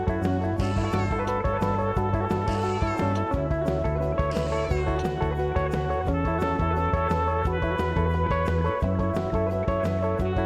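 A cat meows repeatedly in short, evenly spaced calls, set against a dense musical background.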